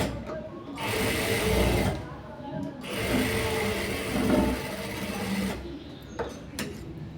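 A sewing machine stitches dot stitching on a blouse front in two sustained runs of steady mechanical whirring, with a short pause between them and quieter handling at the end.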